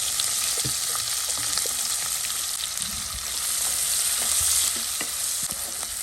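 Two onions go into hot oil with cloves and star anise for a prawn dum biryani, giving a loud, continuous close sizzle and crackle with occasional stirring scrapes, and no voices.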